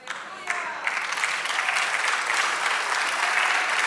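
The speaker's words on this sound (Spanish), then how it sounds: "Vamos, aplaudámosle fuerte a nuestro Dios." A church congregation claps loudly together, the applause swelling after a moment and continuing as a dense, sustained patter from a crowd.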